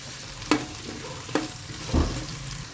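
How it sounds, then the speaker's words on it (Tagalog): Carrots and potatoes sauté in hot oil for pork kaldereta, a soft continuous sizzle broken by a few clattering stirs of a utensil against the pan. "Uunahin kong gisahin ang gulay dahil malambot naman na yung karne."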